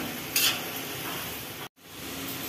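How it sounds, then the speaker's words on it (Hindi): Potatoes frying and being stirred in a pan for an Uttar Pradesh–style aloo parwal dish, a steady close sizzle with a soft scrape near the start and a brief dropout partway through. "आलुओं को आप बीच बीच में ऐसे चलाते रहिएगा ताकि अच्छे से पक जाए"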